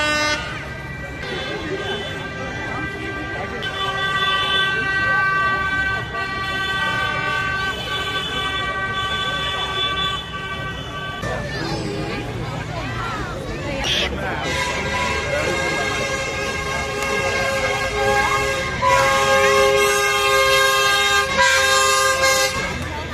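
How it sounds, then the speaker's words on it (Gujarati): Horns of decorated tractors blare repeatedly at a farmers' tractor rally in an English city, several loud overlapping honks in long sustained blasts mixed with street noise and nearby voices. "આજે એક જ દિવસ એ લોકોને શૂટ હોય છે કે એ બિંદાસ હોરન વગાડી શકે"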